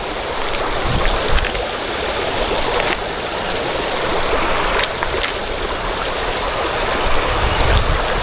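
A river current flows steadily in a quiet, remote spot, a continuous rushing and gurgling of water with no voices.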